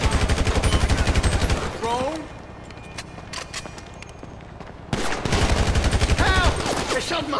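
Bursts of gunfire crackle loudly in a Grand Theft Auto shootout at a construction site, rapid shots dense at the start and again near the end with a brief lull between, while a voice briefly speaks.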